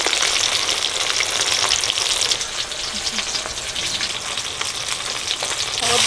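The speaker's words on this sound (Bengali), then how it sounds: "মাছ ভাজা হয়ে গেছে তুলে নিচ্ছি" Tangra fish fries in oil with a loud, dense, continuous sizzle and crackle that stays close and steady throughout, briefly easing midway.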